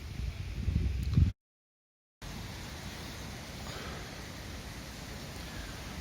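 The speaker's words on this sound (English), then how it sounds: "Still quite windy, spitting with rain again." Wind rushes and buffets the microphone beside a fishing lake at Hampton Springs in late September, with light spitting rain. The noise is steady and broadband, with one brief dropout to silence.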